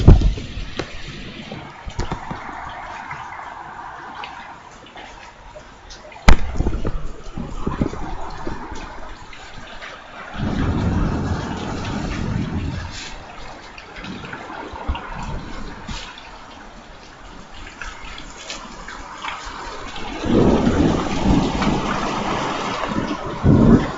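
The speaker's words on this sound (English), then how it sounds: "got rain coming down" Heavy thunderstorm rain with gusty wind pours down in an open parking lot, the rush rising and falling in waves with wind buffeting the microphone.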